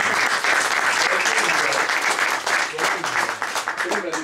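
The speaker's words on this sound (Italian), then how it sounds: "un applauso per la padrona di casa" Applause from an event audience for the hostess at an Italian book festival gathering, a dense, steady wash of many hands clapping for several seconds at close range.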